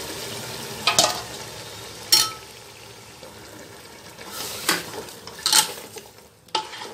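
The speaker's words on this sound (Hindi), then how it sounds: "टमाटरों को गलने के बाद भून लेंगे" Tomatoes for mutton tahari are stirred and fried in a pot, with a soft sizzle running underneath and several sharp spoon scrapes against the metal at irregular intervals, close by.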